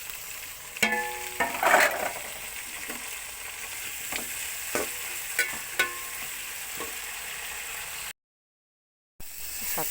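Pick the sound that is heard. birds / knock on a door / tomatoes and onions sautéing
tomatoes and onions sautéing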